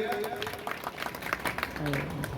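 Audience clapping at a Bahuchar Mata patotsav prize-distribution ceremony in Sedla: a brief, dense burst of applause from a crowd, mixed with voices.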